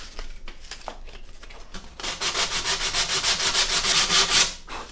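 Sandpaper worked by hand along the arm bevel of an acoustic guitar body held in a vise, first a few light scattered strokes, then a loud, steady run of rapid back-and-forth rasping strokes that stops abruptly near the end.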